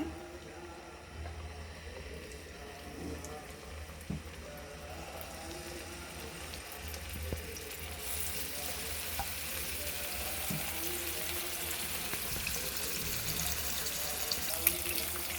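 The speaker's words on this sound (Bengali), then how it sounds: "তো এর মধ্যে আমি মাছটাকে ভেজে নিব।" Rui fish pieces fry in oil in a pan with a steady low sizzle that grows brighter and louder partway through, heard close with occasional soft knocks of the pan.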